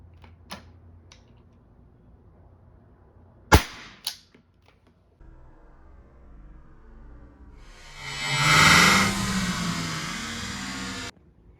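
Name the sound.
Umarex pepper launcher test firing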